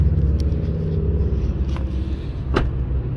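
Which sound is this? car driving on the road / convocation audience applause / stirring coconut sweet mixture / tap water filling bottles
car driving on the road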